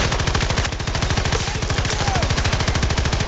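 A light machine gun in Battlefield 2042 fires one long, sustained burst of rapid, evenly spaced shots throughout, loud and close, with no talking over it.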